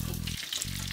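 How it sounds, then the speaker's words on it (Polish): Minced pork cutlets fry in a pan with a close, steady sizzle and a low hum underneath. "Jak się dużo kotletów smaży,"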